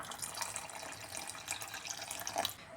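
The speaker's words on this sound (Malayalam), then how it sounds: "ഞാൻ ഈ മിക്സിയുടെ ജാർ കഴുകി കുറച്ച് വെള്ളം കൂടെ ചേർത്ത് കൊടുക്കുകയാണ്" Hot water poured from a mixer jar after rinsing, into tomato curry cooking in a pan: a steady, close splashing stream with a brief surge near the end, no talking.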